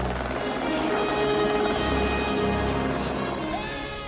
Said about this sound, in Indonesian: Mendengar suara helikopter, Sean pun menembakkan flare gun hingga Charlie pun menghampiri mereka